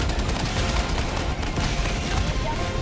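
Light machine gun firing rapidly in the Helldivers 2 video game, a continuous dense stream of loud shots with heavy low thump, unbroken for the whole span.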